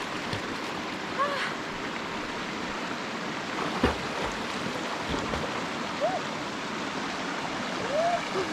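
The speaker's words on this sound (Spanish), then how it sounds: "estamos aquí como al ladito del río" A river flows steadily beside people standing close to its bank, its broadband rushing wash holding constant throughout with no break, while a few brief faint chirps rise above the water.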